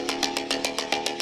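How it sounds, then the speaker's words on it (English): Synthesizer preset built in Serum with altered waveforms, rendered as a gritty, buzzing mid-tempo tone pulsing in a steady rhythm of about eight quick bright bursts, loud and alone. "this is a preset I made, and then I changed some of the waveforms and turned it into what you're about to hear right now"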